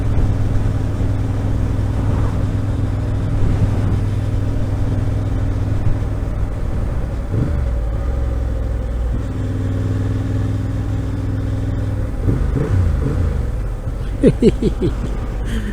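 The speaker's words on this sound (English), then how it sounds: "you've got to have that SC Projects exhaust on." A Honda CB750 Hornet motorcycle fitted with an SC Projects exhaust runs steadily with a loud, continuous engine drone, dipping and shifting pitch midway and ending with a few sharp revs near the close.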